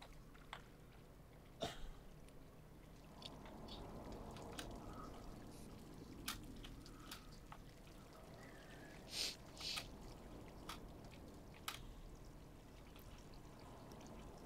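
Flowing water in the video game Stray, a soft steady pour or trickle heard faintly and continuously, broken by a few brief sharper clicks and small sounds.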